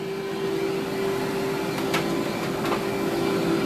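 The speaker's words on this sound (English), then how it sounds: "you know your beater bar on your vacuum cleaner is working just as it should" Vacuum cleaner with a beater bar running, a steady close motor whine with a constant hum and airy hiss, a couple of faint brief clicks partway through.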